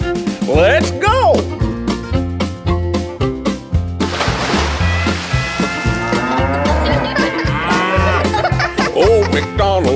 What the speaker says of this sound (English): And on his farm he has a cow, E-I-E-I-O.